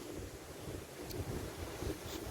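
Rough sea on the Holderness coast, a low, continuous wash of big waves mixed with gusting wind buffeting the microphone, faint and unbroken, with no voices.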